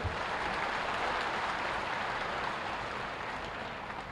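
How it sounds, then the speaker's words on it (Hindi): A crowd at an outdoor foundation-stone ceremony for a government medical college in Sultanpur claps steadily in a dense, continuous wash of applause that fades slightly toward the end. "एक बार तालियों के गड़गड़ाहट से आप सब स्वागत करो मित्रों"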